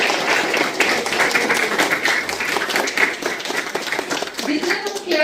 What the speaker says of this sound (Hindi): तो अपने लिए फिर से जोरदार तालियां हो जाए।